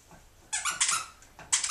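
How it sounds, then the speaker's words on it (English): A squeaky dog toy squeaks in two short bursts of high, bright squeals, the first a cluster of quick squeezes and the second a shorter pair, close and fairly loud over a quiet room. "Where's your squeaky in that thing?"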